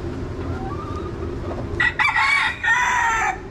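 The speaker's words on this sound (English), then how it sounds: "Those are the cock-a-doodle-doo and roosters." Roosters crowing in a city alley, with one clear crow rising over steady background noise for a couple of seconds, fairly close and loud.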